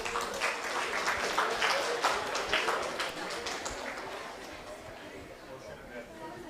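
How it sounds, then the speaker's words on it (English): An audience at a university outreach event claps for a boy, moderate applause that is strongest early on and then thins out beneath ongoing talk and chatter. "Give him a big round of applause."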